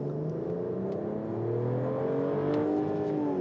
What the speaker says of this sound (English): So I'm gonna lay into the throttle,